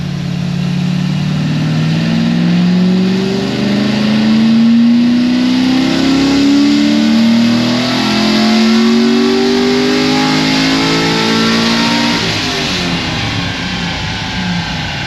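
An LS7 V8 engine is revved on a dyno through a full pull, its loud, close roar rising steadily in pitch for about twelve seconds before easing off sharply.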